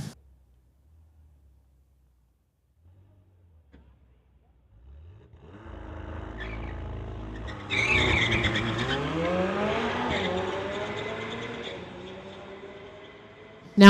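A McLaren at a street-legal drag racing event is silent at first, then its engine swells in from about five seconds and roars loudly with a rising, accelerating pitch as it launches and pulls hard down the strip.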